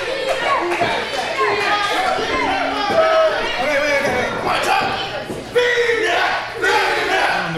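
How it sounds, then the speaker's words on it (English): A crowd at an independent pro wrestling match cheers and yells for a wrestler, a dense, loud wash of overlapping shouts and voices running throughout, with a sharper burst of cheering near the end. "And the crowd's getting behind Shawn Phoenix"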